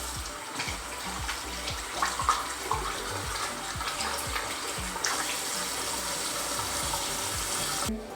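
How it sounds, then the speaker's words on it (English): A sink tap runs steadily while hands are washed beneath it, a continuous close splashing hiss with small irregular spatters throughout, ending abruptly. "Once I'm done, I'm going to take off my gloves, wash my hands"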